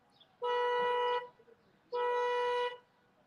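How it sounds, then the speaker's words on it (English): A car alarm sounding from a vehicle on the road, two long, loud, steady electronic horn-like blasts with a short gap between them, heard alone without talk. "How are you driving and your alarm is going off?"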